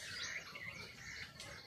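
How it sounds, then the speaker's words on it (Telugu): Brief, thin chirps come from a bird on a guava branch in a garden, faint and scattered over a quiet outdoor hush. "పిట్ట ఇక్కడ ఈ కొమ్మ మీదకి వచ్చింది"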